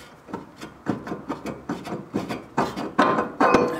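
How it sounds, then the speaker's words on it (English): A brake rotor on a 1991 Mazda RX-7 is rocked back and forth on the hub, giving a quick series of close scraping, rubbing metal knocks that grow louder toward the end. "then you take the rotor and you just wiggle it back and forth"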